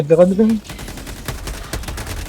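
Rapid gunfire from the Helldivers 2 video game, a fast burst of close shots following a short spoken voice line.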